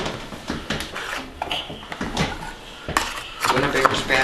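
A spatula cuts through a breakfast egg casserole in a baking dish, scraping and clinking against the dish in short irregular bursts while people talk nearby.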